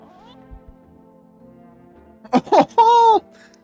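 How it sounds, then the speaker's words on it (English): A cat gives one short, rising-and-falling meow close by, preceded by a couple of brief rustling bursts, with faint talk underneath. "I have a cat."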